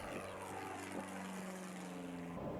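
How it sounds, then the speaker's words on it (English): Small propeller airplane taking off, its engine a steady droning hum with a rising pitch, heard alone at a moderate distance. "I bring the yoke up a little bit and we take off"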